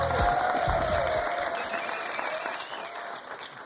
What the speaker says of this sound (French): on va continuer à applaudir comme ça pour accueillir Thierry Beccaro.